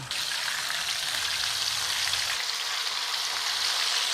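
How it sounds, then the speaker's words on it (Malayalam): Fish frying in hot oil for a Kuttanad toddy-shop style karimeen fry, a dense, steady hiss of bubbling oil, close and even for the whole stretch. "പാകത്തിന് എണ്ണ ഒഴിച്ചു ഇനി നമുക്ക് നമ്മുടെ മീനൊന്ന് പെറുക്കിയിടാം"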